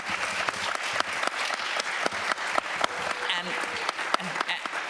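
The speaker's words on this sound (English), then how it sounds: "So give yourself a round of applause before we even start." Citizenship challenge finalists and onlookers applaud in a modest room, scattered, fairly close hand claps with distinct individual strikes, a lighter crowd than a full hall, with faint voices mixed in.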